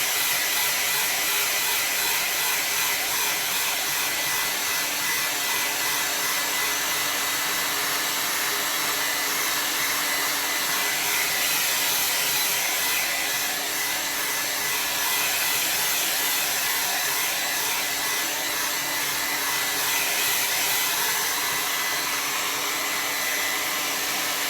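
A hair dryer blows steadily on a watercolor landscape painting, a loud, unbroken hiss that runs on its own from start to finish.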